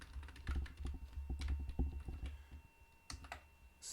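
Typing JavaScript code on a computer keyboard, a steady run of close, soft key clicks with brief pauses and a few sharper taps, no voices.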